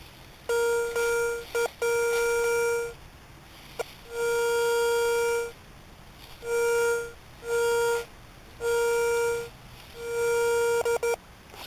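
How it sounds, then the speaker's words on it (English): A metal detector sounds loud, steady electronic tones in long repeated bursts of a second or two, separated by short pauses, close and alone. "Let's turn the detector back on and see if we can't find our problem."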